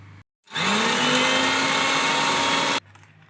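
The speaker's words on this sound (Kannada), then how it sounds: "ಸ್ವಲ್ಪ ಹಾಲು ತಗೊಂಡು ಮಿಕ್ಸಿಗೆ ಚೆನ್ನಾಗಿ ರುಬ್ಕೊಳ್ಳೋಣ" A kitchen mixer grinder blending milk and sugar for cold coffee runs in one steady, loud whirring burst of about two seconds, starting and stopping abruptly, with no talk.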